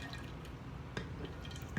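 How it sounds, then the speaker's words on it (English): Kombucha starter liquid pours into a brewing vessel, coming through as soft, faint dripping and splashing with a few brief drops standing out, no talking. "I pour my starter in there"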